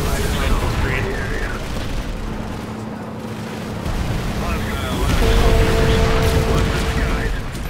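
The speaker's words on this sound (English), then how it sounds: "Just exploded. That was friendly mines." Friendly mines going off in the shooter game Planetside 2, heavy booming blasts rolling under a noisy battlefield mix with voices talking over it.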